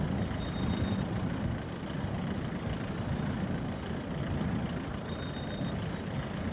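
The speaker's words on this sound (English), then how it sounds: "If your brakes sound like that, like this, in real life, it's probably time to change them." Worn, grinding brakes on a vehicle in the driving game The Long Drive, heard as a steady, loud low rumble and rough mechanical drone, continuous throughout with no talk.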